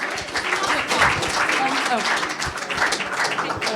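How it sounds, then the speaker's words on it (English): A burst of audience applause after an open mic film pitch, dense clapping from a small crowd filling the whole moment, fairly close. "Round of applause, please, everyone."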